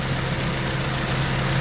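A Ford KA MK1 radiator fan runs while the engine idles, producing a steady close-up whir over a low, constant engine hum with no pauses.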